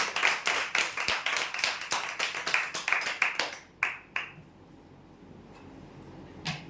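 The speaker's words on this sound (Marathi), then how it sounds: "जोरदार टाळ्या होऊ द्या यांच्यासाठी" A small group claps steadily for a few seconds at a lucky-draw prize event, then the applause thins out to a couple of scattered claps before falling quiet.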